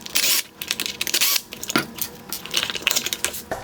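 Small metallic clinks and rattles from a screwdriver and loose screws while removing two Phillips head screws from the ballast of a 2019 Acura ILX OEM LED headlight, close up and irregular, no talking.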